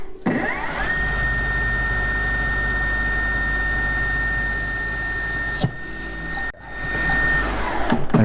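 Sharp drill bit boring holes into brass knife hinges, a steady high motor whine with a grinding cut that stops, then spins up again briefly.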